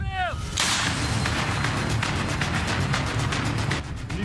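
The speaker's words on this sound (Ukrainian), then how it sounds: "Постріл!" Ukrainian border guards fire a single shot from an SPG grenade launcher at enemy positions: one sharp, loud blast followed by a long, rolling echo that slowly fades over several seconds.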